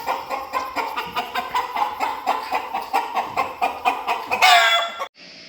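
Cuckoo Maran roosters kept in cages make steady repeated clucking calls for several seconds, building to a louder burst of squawking near the end before the sound suddenly drops away.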